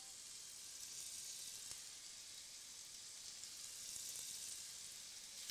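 Scallops sear in a hot frying pan, giving a steady, soft bright sizzle that runs without a break at a low level, with no voices over it.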